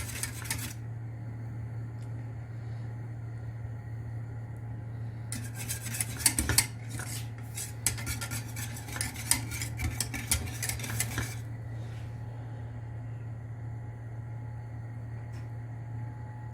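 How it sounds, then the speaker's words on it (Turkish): A whisk stirs cake sauce as it boils in a pot, sending out bursts of quick metallic scraping and clinking against the pot over a constant low hum from the stove. "Çırpıcıyla iyice karıştırıyoruz ki topaklanmaması için."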